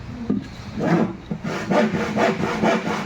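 A hand saw rasps through wood in steady back-and-forth strokes, about six rhythmic pulls, close and moderately loud.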